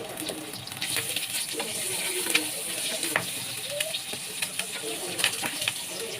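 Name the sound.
eggs with salt, turmeric and chili frying in oil in a wok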